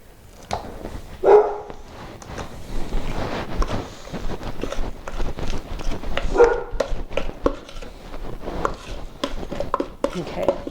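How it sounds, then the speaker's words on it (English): A pet dog barking excitedly at a UPS delivery person in a home kitchen, with scattered near barks and whimpers mixed with clatter and footsteps while people talk. "there's the dog. She gets very excited when the UPS guy comes at Christmas time"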